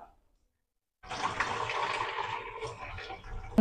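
Water from boiled potatoes pours out of a pot in a sudden steady splashing rush after a moment of silence, close and moderately loud, tapering slightly before a sharp knock at the end.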